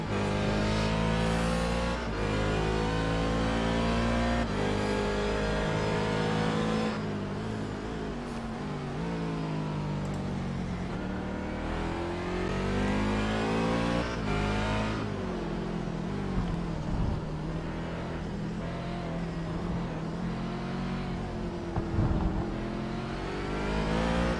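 From onboard a race car in a circuit race, the engine revs hard and loud, its pitch climbing and dropping through repeated gear changes and throttle lifts for the whole run.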